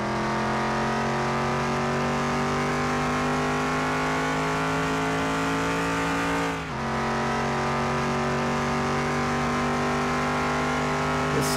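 A steady, loud in-game Land Rover Defender 90 engine drone holds a rising pitch, briefly dips as if shifting into fifth gear, then keeps pulling, with a faint hiss of road noise underneath, from Car Mechanic Simulator 2021.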